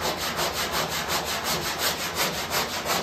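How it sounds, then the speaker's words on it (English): A sanding block rubs back and forth over primer on the body of a 1968 Firebird under restoration, making steady rhythmic scratchy strokes, close and even, with no talking. "leaving the sanding block laying on that edge of the body, I'm going to push it just a little bit to follow the contour"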